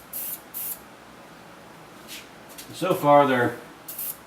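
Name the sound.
spraying a coat of Duracoat finish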